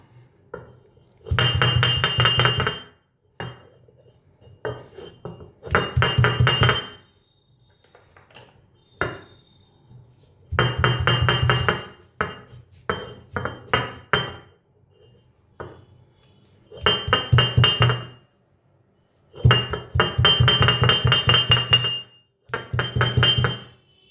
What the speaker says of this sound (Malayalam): മാങ്ങ ഇതുപോലെ കുറച്ച് ചതച്ചെടുത്തിട്ടുണ്ട് കേട്ടോ